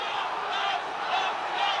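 A rugby stadium crowd roars and shouts for a red card after punches are thrown, a loud, sustained mass of voices rising and falling in waves.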